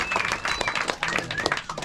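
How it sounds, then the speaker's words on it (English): Clapping from a gathered crowd at a paragliding competition briefing, uneven and lively, with irregular bursts of hand claps and some voices mixed in, fairly close. "So a big round of applause to our task committee."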